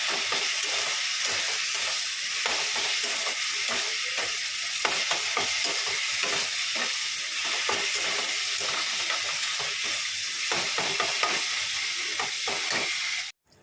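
Ginger, onion and garlic sautéing in oil, a dense continuous sizzle and hiss with scattered stirring scrapes, close and steady until it cuts off at the end.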